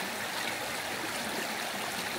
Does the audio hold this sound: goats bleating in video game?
no